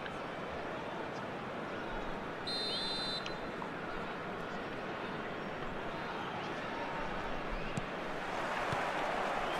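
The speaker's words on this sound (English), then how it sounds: "There's the whistle, and here we go." A referee's whistle starts a match in the eFootball 2026 video game: one short, steady whistle about a third of the way in, over a constant loud stadium crowd roar.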